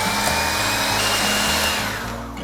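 A hand mixer whirs steadily and close as it whips heavy cream with granulated sugar toward soft peaks, a constant motor drone with no talking that eases off at the very end.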